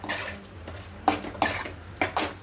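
Corn, capsicum and cabbage are stirred in a pan over a medium flame: several distinct scraping and clinking strokes of a spoon against metal over a faint, low sizzle.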